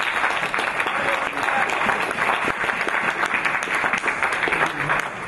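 A church congregation at a Baptist Sunday service applauds, with dense, sustained clapping from many hands filling the room without a break.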